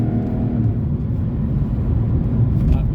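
A deep V8 engine of a Porsche 955 Cayenne S drones steadily from inside the car, a low rumbling hum that rises slightly in pitch as it pulls.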